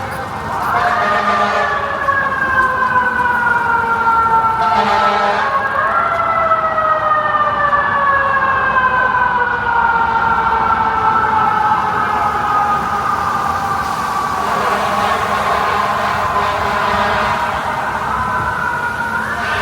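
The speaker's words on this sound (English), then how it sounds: "Tons of sirens." Emergency vehicle sirens wail on a Midtown Manhattan street during a heavy snowstorm. Several loud, overlapping tones rise and fall for the whole stretch, layered over a steady rumble of city traffic.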